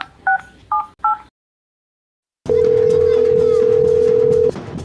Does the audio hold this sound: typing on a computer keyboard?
no